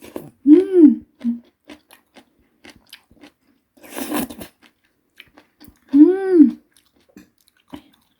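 Crunchy bean sprouts chewed close to the microphone at a meal of spicy chicken feet, with several bursts of crisp crunching and soft mouth sounds separated by pauses.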